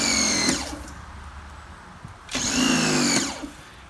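An AR Blue Clean AR118 electric pressure washer, a 1,500 PSI hand-carry unit, runs in two loud motor bursts with a quieter hum between them. No one speaks.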